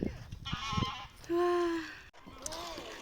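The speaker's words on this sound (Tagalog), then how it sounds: "May ibon doon." A single loud honking bird call, goose-like and drawn out, rises clearly above background chatter and faint ambient noise.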